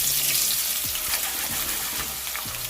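Potatoes hitting a pan of hot vegetable oil and butter over medium-high heat, a steady loud sizzle and crackle throughout with no talking.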